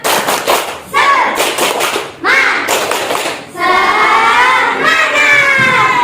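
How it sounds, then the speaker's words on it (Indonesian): A class of students repeats a rhythmic spirit clap: sharp clustered claps in short patterned bursts separated by brief gaps, followed by loud youthful voices chanting together. "Semangat sekali lagi. Tepuk semangat."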